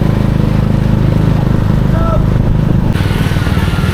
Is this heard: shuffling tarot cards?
no